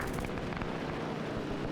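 Heavy, continuous rumbling blast noise from mortar fire in a World War II video game, dense low booms blending into a loud sustained roar without pauses.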